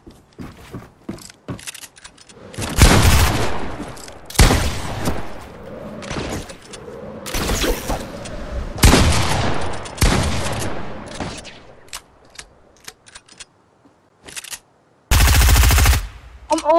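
Gunfire in the Fortnite video game: repeated bursts of loud sharp shots, with single blasts and rapid volleys spread across the clip and a final dense burst near the end, no talking.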